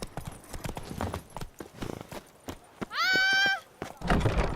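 Roach the horse's hooves clip-clop in a steady walking rhythm in Witcher 3, with a harmonic whinny-like tone rising midway and other game sounds around it.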